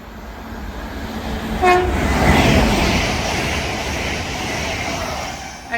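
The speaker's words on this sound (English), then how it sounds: "Then we're going to have a Avanti West Coast Zero unit going from Liverpool Lime Street to London Euston." An Avanti West Coast Class 805 unit running from Liverpool Lime Street toward London Euston passes through Nuneaton on the West Coast Main Line, a loud steady rumble with a brief horn toot partway through.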